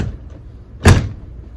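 A door fitted with a new latch swings shut in one short, sharp thud with a quick click, loud and close, in an otherwise quiet space.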